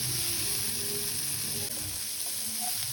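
Prawns dropped into a pan of fried onion, a steady hissing sizzle with occasional soft stirring, moderately loud and continuous, no voices.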